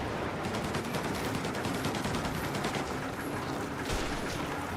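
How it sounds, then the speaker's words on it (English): Gunfire in a video game: a steady, dense rattle of rapid shots, moderately loud and unbroken for several seconds, heard alone with no talking. "What are they shooting at?"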